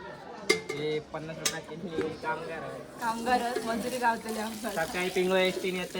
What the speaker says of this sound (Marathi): आता जेवण झालेला तर भांडी घासूचा टाइम